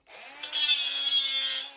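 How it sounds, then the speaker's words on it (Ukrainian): An angle grinder cuts into a steel pipe, throwing sparks. It gives one steady, loud, close-up grinding whine with a faint underlying hum, starting sharply and holding for nearly two seconds with no voices. "от вам і труба. От вам і болгарка."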